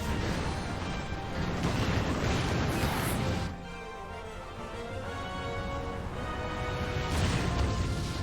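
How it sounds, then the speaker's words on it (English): A dense, roaring crash sweeps through an in-game explosion in Final Fantasy XIV, loud and sustained, then drops to a lower rumbling wash and flares up again near the end, with no voices over it. "there's an explosion coming in here"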